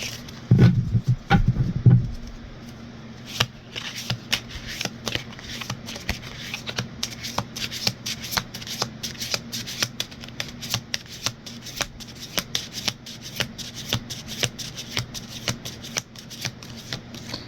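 A Shamanic Medicine tarot deck is shuffled by hand, with a few loud riffles at the start and then a steady, close run of soft card flicks and slides that continues without talk.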